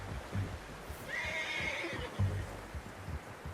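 A horse in the video game Red Dead Redemption 2 lets out a single clear whinny in the middle, rising and then trailing off, over a steady low rumble and soft hoof clops.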